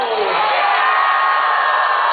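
A crowd at a political campaign rally in Veracruz roars with loud, sustained shouting and cheering that fills the whole clip.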